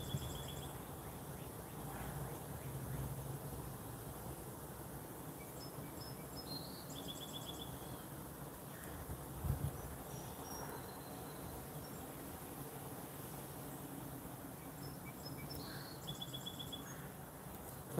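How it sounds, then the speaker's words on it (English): Faint whistle-like or bell-like bird calls repeating over a steady chorus of crickets at an outdoor carp fishing spot, with a low background hum throughout. "There's that bird that sounds like a whistle or a bell."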